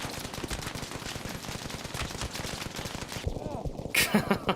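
Rapid video-game gunfire rattles in dense bursts as a player gets shot, with a voice talking over the end of the shooting.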